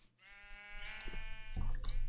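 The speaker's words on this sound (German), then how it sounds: "Und hier ist das graue, und hier ist das pinke Schaf bei mir auf dem Berg." Sheep bleating in Minecraft, one drawn-out nasal bleat rising and swelling in loudness, heard alone and fairly close.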